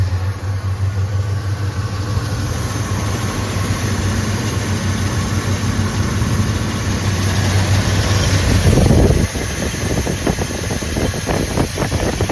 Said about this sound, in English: Hey Scott, I've got the points in, I got the timing set, dwell is set, carburetor is adjusted, and this is how she runs